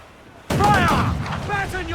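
A broadside of ship cannons in Assassin's Creed 4 Black Flag erupts suddenly after near silence, a loud booming volley with rolling rumble as crew members shout over the fire.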